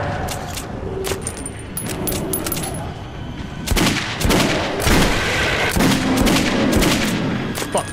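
Rapid gunfire from the Metro 2033 video game in a subway setting, bursts of loud close shots cracking repeatedly over dense ambient noise, growing heavier in the second half.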